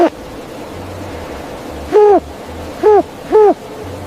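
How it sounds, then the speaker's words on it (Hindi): An owl gives three loud, clear hoots spaced about a second apart, over a low steady hum. "देखो बच्चों, ये है आउल।"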